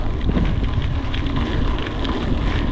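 Strong headwind buffeting the microphone of a cyclist riding a mountain bike on a training ride near Gravelines, a constant loud low rumble with gusty fluctuations and no speech.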